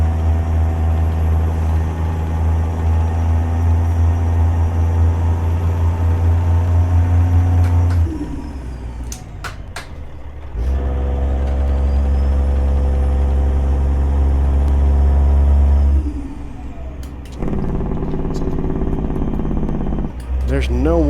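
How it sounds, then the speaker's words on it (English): A heavy truck engine in American Truck Simulator drones at a low, steady rumble, revving and dropping a couple of times, with a person talking over it at points. "Engine is loud."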